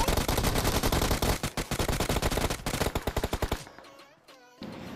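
Rapid automatic gunfire in an online battle-royale shooter, with dense repeated bursts that fill the first few seconds, thin into separate shots, then give way to quieter game sounds.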